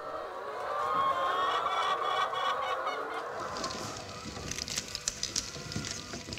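Hens clucking inside a laying barn where a conveyor belt runs under the nests, a dense steady chorus of fowl over mechanical hum, with sharper individual clucks standing out near the end.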